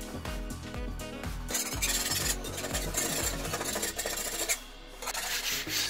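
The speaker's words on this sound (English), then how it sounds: "I'm using a really sharp scraper here, so it's really enabling me to get underneath that flaking paint." A sharp scraper rasping flaking paint off a bathroom ceiling, repeated close scraping strokes in a steady rhythm with a brief pause near the end.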